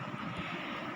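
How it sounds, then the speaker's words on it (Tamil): Jet aircraft engine in a 3D video game, a steady, fairly faint whooshing drone held for a brief moment with no voices. "இது டேஞ்சரான ஜெட்."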